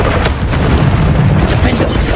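A Bombarda blast spell going off in Hogwarts Legacy, a dense, rumbling boom that fills the whole clip over steady game noise, with speech mixed underneath.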